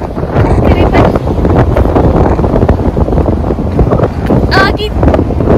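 Strong gusting wind buffets the microphone at Rohtang, blowing sand about in a constant roaring rumble, with brief voices breaking through near the end.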